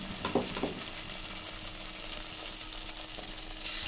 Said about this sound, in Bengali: আমার তেল গরম হয়ে গেছে, এবার আমি এক এক করে ছেড়ে দেব।